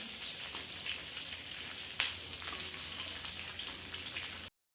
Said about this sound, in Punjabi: ਗੈਸ ਆਪਾਂ ਸਿਮ ਤੇ ਰੱਖਣਾ ਵਾ ਤੇ ਹਲਕਾ ਹਲਕਾ ਇਹਨਾਂ ਨੂੰ ਹਿਲਾਈ ਜਾਵਾਂਗੇ